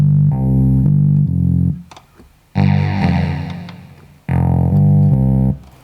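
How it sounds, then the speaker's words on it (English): A deep, buzzy monophonic bass patch on the M-Audio Venom synthesizer plays sustained, distorted notes in three phrases, the middle one brighter and more harmonically rich, with brief gaps between. "a nice bass sound"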